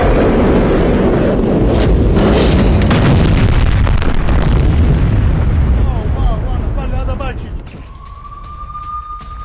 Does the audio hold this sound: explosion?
yes